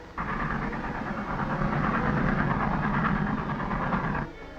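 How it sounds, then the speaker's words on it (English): A steam train rumbles steadily with a broad chugging roar, starting abruptly and holding constant for a few seconds before cutting off. "Look, the train came back for us."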